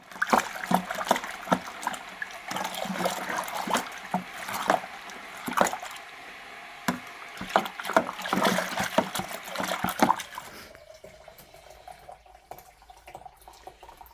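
Hot water pouring and trickling into the can of a home-brew kit for a ruby porter, a steady liquid splashing that runs for about ten seconds, then stops and leaves quieter room sound.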